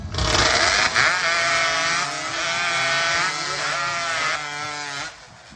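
A chainsaw with a freshly filed chain cutting through timber in a timbersports race, the engine screaming loud and steady for about five seconds before dropping off at the end.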